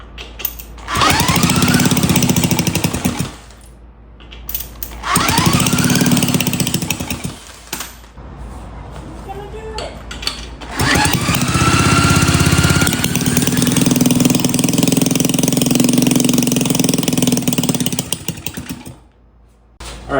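A restored 1940 Maytag twin-cylinder engine sputters to life in loud bursts, cutting out briefly between runs before settling into a sustained, steady running clatter close by, then stopping near the end.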